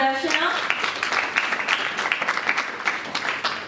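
Steady applause from a school audience at a debate competition in a public school in Jhalawar, dense clapping with a voice briefly heard at the start.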